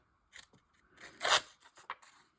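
A distressing tool scrapes paper to age it, making a few short, dry rasping strokes. The strokes are close and uneven, with brief pauses between them, and no one speaks.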